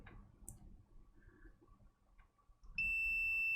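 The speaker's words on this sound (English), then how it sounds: "Let's run the continuity tests again." A multimeter's continuity test sounds a sudden steady high-pitched electronic beep near the end, after quiet faint clicks and handling noise, close by with no talk.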